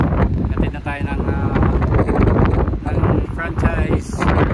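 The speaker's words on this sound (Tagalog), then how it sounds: "Lakas ang hangin." Strong wind buffets the microphone in loud, gusty rumbles while a person talks over it.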